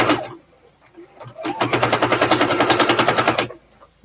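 Sewing machine stitching a straight seam through fabric for a zipper bag, a steady rapid needle rhythm running loud for about two seconds after brief handling noises, then stopping.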